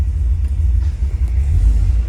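Low, steady engine rumble from a 1957 Chevrolet Bel Air two-door hardtop cruising on the road, loud and continuous with no talking.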